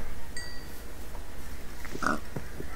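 A pig oinks in the video game Minecraft, a short grunt standing out against steady background noise, with no talking.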